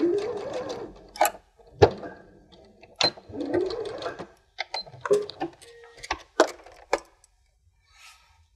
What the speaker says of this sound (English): Sew down the long edge after you've folded it right sides together lengthways.